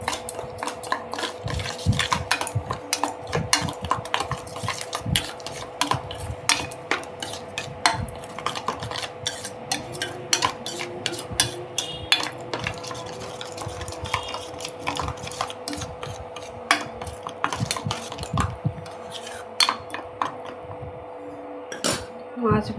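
Spoon scraping and clinking in a bowl while sugar, salt and turmeric are mixed into an onion and green chili paste: rapid irregular metallic ticks and scrapes, close and steady, with a faint background hum.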